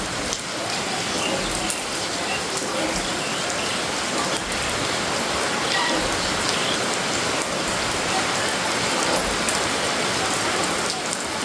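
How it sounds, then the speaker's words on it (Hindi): Heavy morning rain pours steadily over a village, a dense, even hiss of drops on surfaces with no pauses and no voices. "लगातार 3-4 दिनों से खूब अच्छी वाली बारिश हो रही है।"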